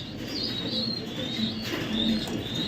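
Racing pigeons coo in low, soft bursts, while sharper high chirps repeat through it at a moderate distance, all against a steady background with no talking.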